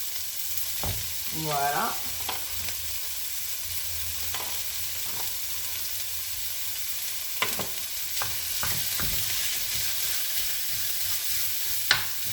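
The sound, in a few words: lean minced beef frying in a pan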